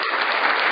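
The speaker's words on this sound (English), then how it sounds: "Let me give you a round of applause." A brief burst of applause, dense and even, as a studio crowd claps for a fantasy football guest.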